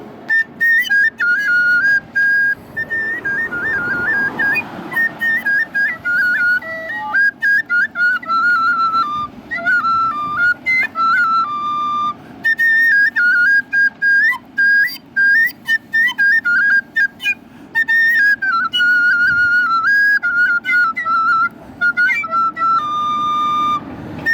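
A high, shrill whistle sounds in a long run of short and held notes, close and loud, with brief gaps between the blasts.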